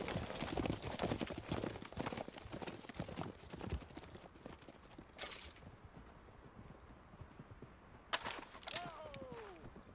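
Several horses ridden off in Red Dead Redemption 2, a burst of rapid hooves clattering close and loud at first, then thinning and fading into the distance, with a whinny and a short voice near the end.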